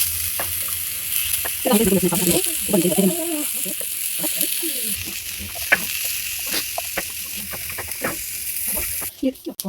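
Baigan tikkis frying in ghee on a hot tava, with a steady broadband sizzle running throughout and a few sharp clicks and utensil taps near the end; a voice talks over the middle stretch.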